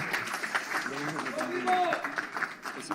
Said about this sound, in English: a round of applause for a fantastic performance from Demetrius Bivol this evening